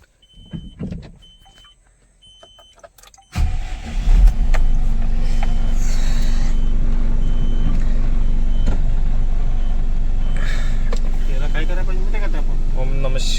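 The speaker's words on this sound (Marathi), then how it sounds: "आता गाडी आपण सोडतोय" A truck loaded with mangoes starts out on a long-haul trip. Faint cab noises and a thud come first, then the engine catches and settles into a loud, steady running drone. Someone speaks over it.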